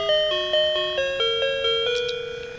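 A Firefly Crawl Along toy plays an electronic bell-like melody, a string of clear chiming notes stepping through a short tune close by, the last tone fluttering with a rapid tremolo.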